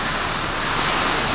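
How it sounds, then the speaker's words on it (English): Typhoon-force winds and storm-surge ocean water rush past houses onto a residential street during a super typhoon in the Philippines, heard as a loud, steady roar of wind and churning water with no break. "fierce winds and ocean water whipping past houses onto a residential street"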